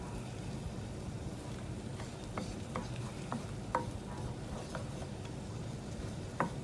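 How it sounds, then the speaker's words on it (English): Garlic sizzles in a hot pan for a shrimp Gorgonzola, a steady low frying hiss with a few sharp ticks and pops scattered through it and no talk over it. "I'm going to go ahead and add our garlic to the pan."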